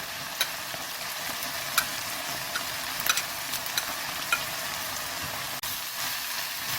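Butterbur stalks and garlic stir-fry in a pan with a soft, even sizzle throughout, broken by occasional light clicks and scrapes of a utensil stirring the ingredients.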